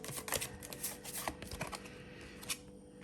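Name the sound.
shuffling tarot cards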